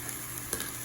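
Onion sautéing in a pan for Spanish rice, giving a steady, close, dense sizzle with a faint tick or two of spatter, no voices.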